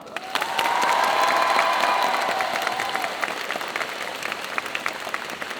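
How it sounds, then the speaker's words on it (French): An audience at a cosplay jury presentation during a convention applauds and cheers for several seconds, loud and close, with a brief whistle or shout rising over the clapping early on before it settles into steady applause. "Est-ce que tu peux applaudir aussi, s'il te plaît?"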